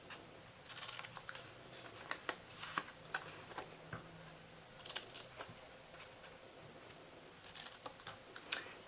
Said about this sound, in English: I'm going to cut this in half here and on this side